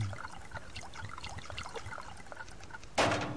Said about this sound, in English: Oh, let's get some water.